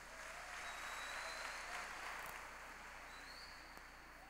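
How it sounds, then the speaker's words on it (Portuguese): A church conference congregation claps in sustained, steady applause for the Lord, a dense patter that fills the room at a moderate distance and stays fairly even throughout. "Dê um forte aplauso ao Senhor."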